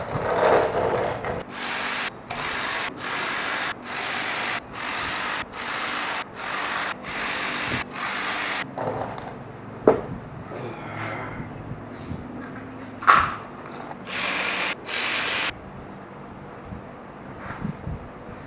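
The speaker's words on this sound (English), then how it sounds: "it's time to remove the bolts from the crankcase, and those are all 8 millimeter" A ratchet wrench clicks in a string of short, evenly spaced bursts as 8 mm crankcase bolts come out of a first-generation Triumph Daytona, with an occasional sharp knock of a bolt or tool between the runs.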